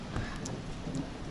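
Hail rattles and patters densely on a ten-millimetre hollow polycarbonate porch roof, a continuous close drumming with scattered sharper ticks.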